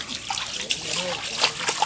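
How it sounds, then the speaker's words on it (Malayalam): Rainwater trickles and splashes in short, close bursts of dribbling and sloshing, while people talk nearby. "ഇത് മഴവെള്ളമാ"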